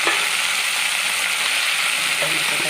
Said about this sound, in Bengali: আমি এখানে কালো জিরে ফোড়ন দেবো